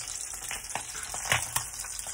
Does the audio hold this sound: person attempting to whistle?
no